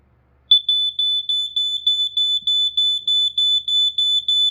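A Kidde KN-COSM-IBCA smoke and carbon monoxide alarm under test beeps loudly in a steady, rapid series of piercing high-pitched chirps, alone in an otherwise silent room.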